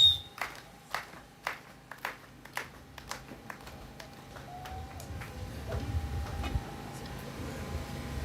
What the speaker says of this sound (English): Let us welcome them by clap of hands.